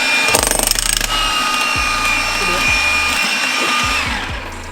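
A hammer or power tool breaks up a wall during home renovation, with a rapid buzzing burst followed by several heavy, close impacts and a grinding whine, and no talk.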